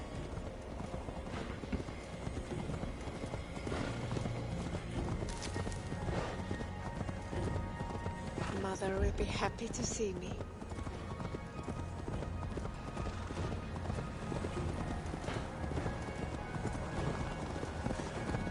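Horse hooves clip-clop in a steady trotting rhythm in Assassin's Creed Valhalla, with a brief whinny midway, quiet game music underneath and someone speaking a line over the hoofbeats.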